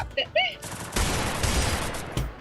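Gunfire in the mobile battle royale game Free Fire: a burst of loud, dense shots starting about a second in and running for over a second, with another short burst near the end. Game sounds and a voice come before it.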